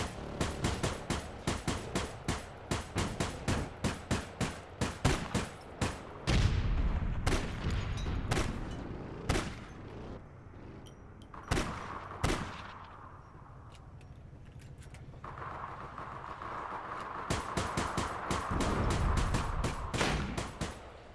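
Rapid gunfire in APB Reloaded, a shooter game, with a run of sharp, evenly spaced shots followed by heavier blasts and scattered single bangs over a steady mechanical background hum.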